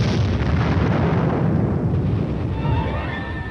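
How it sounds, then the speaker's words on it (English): Continuous rumbling barrage of artillery air bursts over a battlefield, dense booming explosions blending into a loud sustained roar that eases slightly toward the end. "Under the cover of continued artillery air bursts, the team advances."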